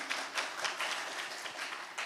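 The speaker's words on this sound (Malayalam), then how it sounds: "ട്രിവാൻഡ്രമിൻ്റെ ഒരു കൈയടി കൊടുക്കാം" An audience in Trivandrum claps steadily at an event, a dense, even patter of many hands that sounds somewhat distant and soft, continuing without pause for about two seconds.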